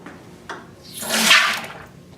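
Liquid ice cream mix bursts from a pressurized Spaceman ice cream machine in a single rushing hiss that swells and fades over about a second, after a small click.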